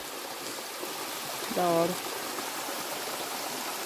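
A natural spring flows beside a forest trail in the Atlantic Forest near Paranapiacaba, giving a steady, soft rushing trickle throughout, with a brief spoken exclamation in the middle.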